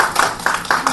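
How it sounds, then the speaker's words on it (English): A few people clap for a speaker at a women's economic forum session, sparse, distinct hand claps in a quick uneven rhythm, close and fairly loud over a short moment. "Big loud applause for Karen."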